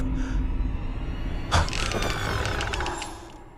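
In the video game Identity V, a door's mechanical creak and clunk starts partway through, followed by a drawn-out squeaky grinding as it swings open over a quiet background.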